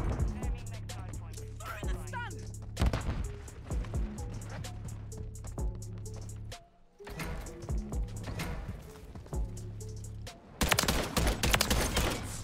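Rapid bursts of KVD Enforcer rifle fire in Call of Duty MW3 crack in repeated clusters over a steady hum, with a brief lull midway before shooting resumes, louder and denser.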